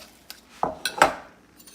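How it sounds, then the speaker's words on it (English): A metal spoon scrapes and taps against a dish while filling deviled eggs with seasoned yolk mixture, giving a few close, sharp clinks spaced across a brief quiet moment. "and then we start filling the eggs"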